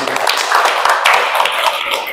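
An audience applauds in a hall, a dense, even patter of many hands clapping at moderate loudness, with some talking mixed in.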